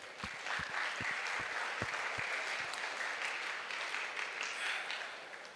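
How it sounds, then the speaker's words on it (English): Steady applause from an audience at a pharmacy event at Bhonsale Knowledge City in Sawantwadi, many hands clapping densely and evenly for the whole stretch, with a few louder individual claps standing out near the start. "we should give a round of applause for all the present members over here"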